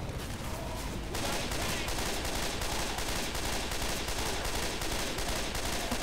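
Constant dense gunfire in Left 4 Dead 2, loud and continuous, several weapons firing at once in an unbroken rattle throughout.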